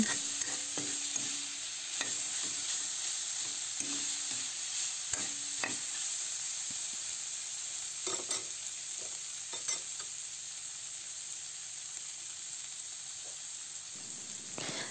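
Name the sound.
stirring seasoned chicken in pan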